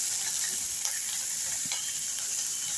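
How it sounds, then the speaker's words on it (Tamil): Peeled, halved shallots sautéing in oil for sambar, a steady close hiss of frying with occasional faint pops and utensil ticks, no talk. "ஒரு கைப்பிடி அளவு உரித்து வச்சு அதை 2 நறுக்கி எண்ணெயில் போட்டு நல்லா வதக்குங்க"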